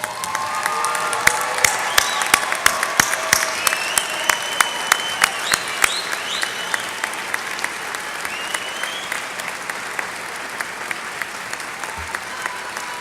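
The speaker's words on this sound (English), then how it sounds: "Another round of applause, all of you guys." Graduates at a university commencement ceremony receive sustained applause from a large audience, dense clapping running steadily throughout with a few louder individual claps standing out.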